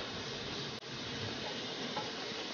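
Pork fat and garlic sizzle while browning in a pan over medium-high heat, a steady close hiss that stays even and continuous, broken once by a brief dropout.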